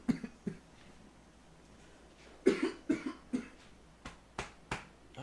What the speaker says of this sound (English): I don't know why I'm coughing so much today.